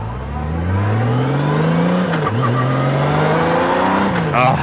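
A Honda Goldwing touring motorcycle engine pulls hard and loud up close, its tone rising steadily, dipping briefly, then climbing again under constant wind rush.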